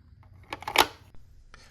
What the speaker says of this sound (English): Now just snap it back in and screw the light back together.